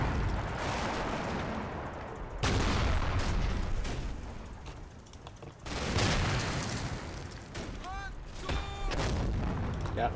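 Mortar and artillery fire in the Combat Mission wargame: a steady, dense run of booming blasts and rumbling impacts, several loud thumps in succession, with brief whistling tones near the end.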